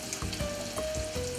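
Breaded crab frying in oil in a pan makes a steady, dense sizzle with crackling pops throughout, close and continuous.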